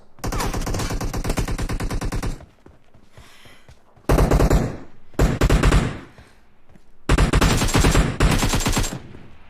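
Automatic gunfire in PUBG Mobile deathmatch, loud close bursts of rapid rattling shots, several seconds long, separated by short quiet gaps, with no talking.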